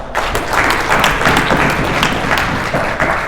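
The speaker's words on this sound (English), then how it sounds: "while you clap your hands" Audience applauding at a political gathering about Uganda, a steady broadband wash of many hands clapping, loud and continuous throughout.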